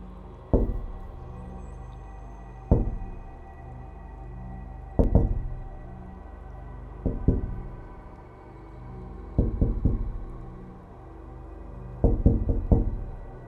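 Soft knocking taps from inside a drawer where a laptop is locked, coming in small clusters every couple of seconds in a steady rhythm, close and distinct against a quiet room.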